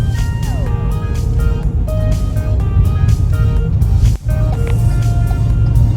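Inside a 2020 Ford EcoSport Trend crawling through rush-hour traffic in the Philippines, a steady low engine and road rumble fills the cabin, with faint shifting tonal sounds and a brief dip midway.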